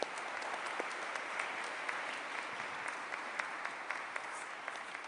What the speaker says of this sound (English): give our servers a round of applause